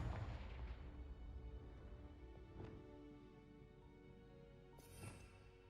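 A fiery Confringo blast spell goes off in a Harry Potter video game, a loud booming burst at the start that decays into a rumbling tail, with smaller crackling impacts following later.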